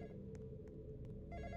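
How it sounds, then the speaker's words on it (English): A telephone rings in the Roblox game The Graveyard Experience, with short repeated bell bursts over a steady background hum. "No, don't answer it until I get there."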